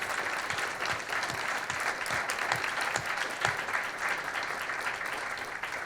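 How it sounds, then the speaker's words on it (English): Audience at a breakfast candidates' forum giving a warm round of applause, a sustained, even wash of many hands clapping at moderate volume without any talk. "Please join me in a warm round of applause"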